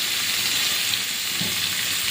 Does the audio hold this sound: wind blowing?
no